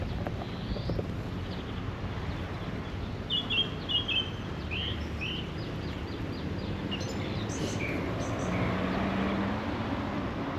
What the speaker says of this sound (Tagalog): Pakinggan natin huni ng ibon dito. Dami nila.